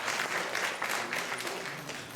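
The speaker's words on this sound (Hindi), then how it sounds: "आपकी जोरदार तालियों में Surti school of performing arts." An audience at a Hindi conference applauds a performing arts school, a fairly faint but continuous patter of many hands clapping.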